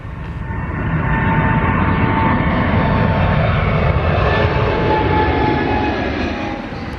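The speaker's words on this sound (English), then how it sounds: "Here we go with the British Airways 777-200 off to New York." A heavy British Airways Boeing 777-200 takes off from the runway at Gatwick with a loud, sustained jet engine roar that builds and then holds steady close by.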